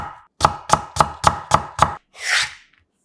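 A knife cuts a quarter carrot into thin 0.3 cm julienne strips on a cutting board. Six crisp, evenly spaced chops land close and loud, followed by a short scraping sweep.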